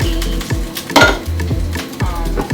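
Beef sizzling in a hot pan with repeated clinks and scrapes of a utensil against the metal, close and fairly loud.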